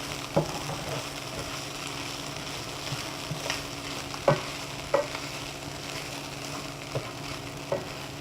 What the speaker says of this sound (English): And so you just have to stir it, and so that all of the seasonings are evenly spread on the quinoa.